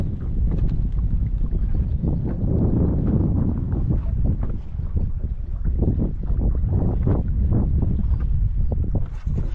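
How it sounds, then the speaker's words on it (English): Steady wind on a North Dakota prairie lake during walleye fishing, a continuous loud rumbling buffet with gusty low roar and faint water slaps, unbroken throughout with no speech. "Wind's starting to pick up."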